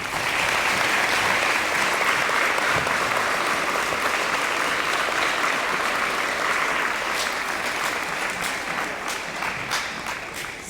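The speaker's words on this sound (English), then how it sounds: "let's give everyone in the room a big round of applause" A room full of people at a school letter of intent signing ceremony claps steadily and loudly for the whole stretch, a dense sustained round of applause that tapers slightly near the end.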